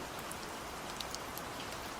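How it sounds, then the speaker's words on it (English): Rain falls steadily in a continuous soft patter, with occasional distinct drops standing out against the even wash of sound, and no voices. "keep listening to the sound of rain"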